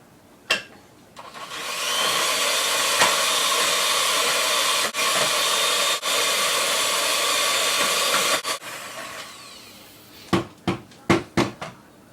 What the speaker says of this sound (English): In a large mixing bowl, beat the softened butter with an electric mixer on medium to high speed for 30 seconds.